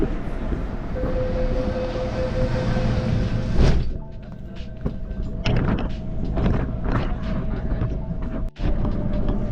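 A train pulls into Sunny Bay station in Hong Kong with a rumbling, whining approach, followed by hissing and the thuds of sliding doors opening and clattering nearby.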